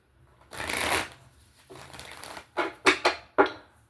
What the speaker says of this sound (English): I'm being led to continue to shuffle, so that's what we're going to do